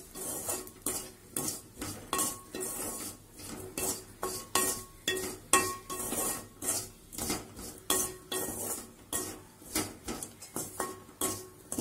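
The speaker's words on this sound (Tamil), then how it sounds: "இந்த மசாலாவை வந்து அப்படியே வறுத்து விட்டுக்குங்க." Masala for fish curry being dry-roasted in a pan, with rhythmic, regular scraping and clanking of a spoon against metal, many strokes in a steady pattern over a faint sizzle, close by and with no speech.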